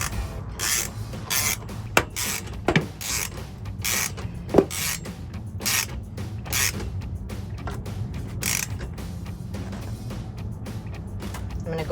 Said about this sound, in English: And then I'm gonna use my ratchet again